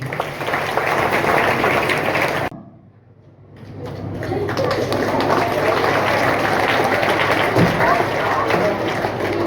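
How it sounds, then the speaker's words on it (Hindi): Audience applause at a yoga session led by a yoga teacher in Seoni, dense clapping that breaks off briefly, then resumes and carries on steadily to the end. "जोरदार तालियां इसके लिए"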